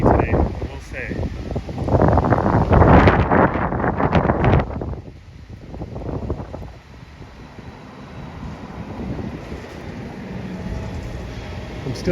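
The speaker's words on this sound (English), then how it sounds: "Pretty windy today, I will say." Strong outdoor wind buffets the microphone during a city street walk in Toronto, with loud low rumbling gusts over the first few seconds that ease into a softer, steadier rush.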